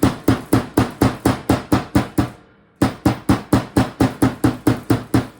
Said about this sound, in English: I'm going to use just a regular hammer